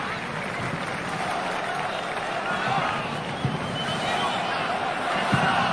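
Qatari supporters in a World Cup stadium crowd send up a steady, dense roar of cheering and chanting, with occasional claps and bangs cutting through at a distance.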